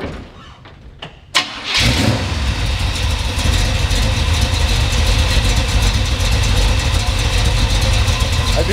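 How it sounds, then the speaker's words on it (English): A 1969 Chevrolet C10 pickup with a 468 big-block V8 cranks briefly, then fires up loud and close. It settles into a heavy, rumbling idle with rough pulsing throughout. "Let's go ahead and we'll let you watch this big motor while I fire it up."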